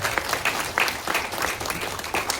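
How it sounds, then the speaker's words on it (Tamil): Audience clapping at a Tamil public event, a short round of uneven, crackling handclaps from a crowd, moderately loud and continuous with distinct individual claps poking through. "ப்ளீஸ் ஒரு ஒரு கைத்தட்டல் கொடுங்க"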